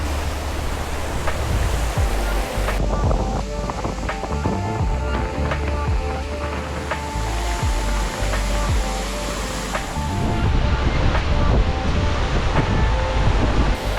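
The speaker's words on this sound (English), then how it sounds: "Just look at those waves." Waves on Lake Simcoe wash steadily against the shore on a rainy, windy day, a continuous broadband surf roar with gusts of wind buffeting the microphone throughout.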